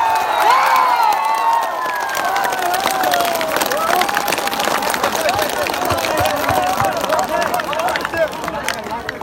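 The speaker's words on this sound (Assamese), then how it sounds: "জোৰকে হাত তালি" An energetic crowd at an Assam panchayat election campaign meeting claps hard and continuously while voices shout and cheer loudly over the applause.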